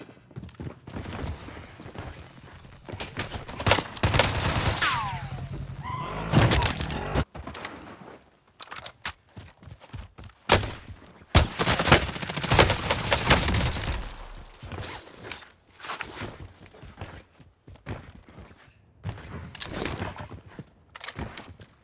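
Gunfire in the video game Warzone comes in bursts of sharp shots and rapid volleys, loud at moments and quieter between, with no talking.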